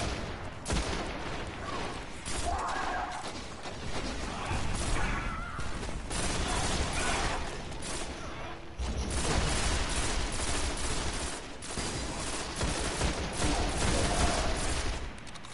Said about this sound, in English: Are you using a pulse rifle?